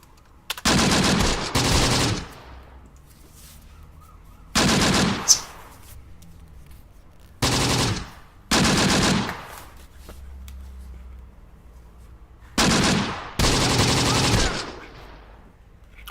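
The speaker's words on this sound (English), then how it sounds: "They're going to keep their positions and just pretty much exchange fire." Gunfire exchanged between units in the Close Combat: The Bloody First video game comes in loud bursts of rapid automatic fire, several clusters lasting a second or two each, separated by brief quieter gaps.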